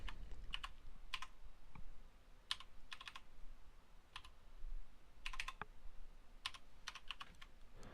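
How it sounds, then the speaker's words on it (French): Keystrokes on a computer keyboard as an IPv4 address is entered into a hostname field, coming in short separated bursts of clicks against a quiet room background with no voices. "dans la case hostname, donc vous allez taper votre adresse IPv4."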